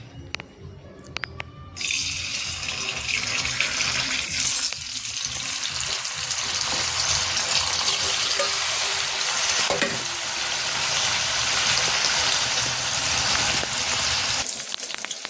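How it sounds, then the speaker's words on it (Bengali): Paneer cubes frying in hot oil in a home kitchen, a loud, continuous close-up sizzle that starts after a few seconds with faint clinks at the beginning, then holds steady to the end. "চলো পনিরগুলো ভেজে নিই"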